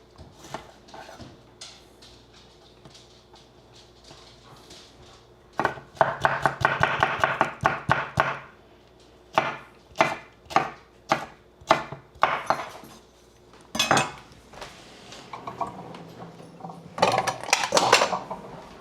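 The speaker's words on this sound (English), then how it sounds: "And I'm not worried about the chop on this, because I'm gonna put it in a blender." A knife chops a quarter of a jalapeno on a wooden board, the rapid hard taps coming in quick bursts after a quiet start, close and distinct, with a few louder clustered strikes near the end.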